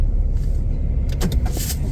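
A car drives through rush-hour traffic with a steady low engine and road rumble from inside the cabin, plus a few brief higher whirs and clicks near the end.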